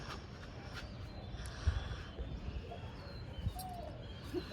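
Pigeons coo softly and intermittently against a noisy background, with a few faint low calls and brief chirps scattered across the stretch.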